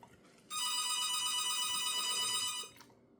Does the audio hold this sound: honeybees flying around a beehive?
no